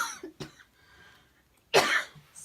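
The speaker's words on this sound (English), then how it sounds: "And that one was a sneeze. It sounds just like a cough, doesn't it?" A sharp sneeze that sounds like a cough bursts out near the end, after a smaller throat noise earlier, with quiet pauses between.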